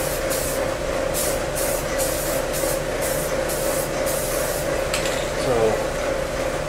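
Paint sprayed steadily over a car's motor compartment and wheel wells, a continuous close hiss with short pulsing bursts from the spray gun.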